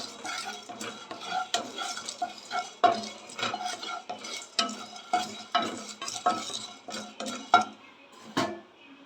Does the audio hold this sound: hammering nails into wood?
no